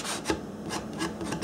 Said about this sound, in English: I really didn't like the way the sanding was going